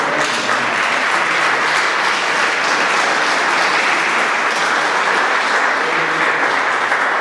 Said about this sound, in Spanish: Así que un aplauso para ustedes son valientes.